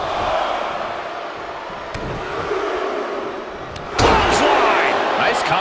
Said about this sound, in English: Set up for the side Russian leg sweep.